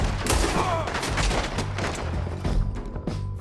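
Rapid gunfire crackles through a Red Dead Redemption 2 town shootout, a dense, continuous volley of shots with sharp peaks throughout and occasional shouting mixed in.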